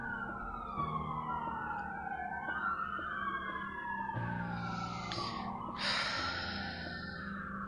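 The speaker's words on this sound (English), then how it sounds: "And we're gonna let the sirens disappear." Emergency vehicle sirens wail through the streets of Toledo, several overlapping tones sweeping up and down, loud and close at first and continuing steadily throughout.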